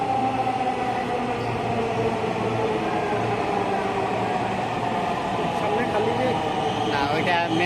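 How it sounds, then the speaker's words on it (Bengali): Inside a moving metro rail train in Dhaka, a loud, steady rumble and whir of the carriage runs throughout, with faint high squeals near the end. "এখানে এসে এখন আমরা একটা মেট্রো রেল ধরলাম, তো এটা দিয়ে আমরা যাব মিরপুর 10-এ"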